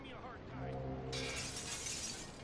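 A pane of glass shatters in GTA Vice City, a sudden bright crash of breaking glass that cuts in over a steady low car engine drone and hangs briefly as scattered fragments.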